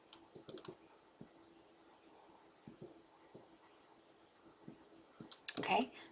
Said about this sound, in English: I'm going to click on attach.